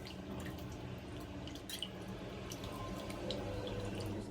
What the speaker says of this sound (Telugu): చికెన్ అయితే నీట్గా వాష్ చేసేసుకున్నాను